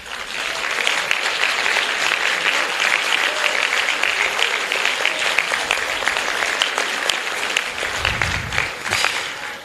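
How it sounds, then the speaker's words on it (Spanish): A conference crowd gives Jean-Luc Mélenchon a long, steady round of applause, many hands clapping densely and evenly throughout. "para quien pido un aplauso"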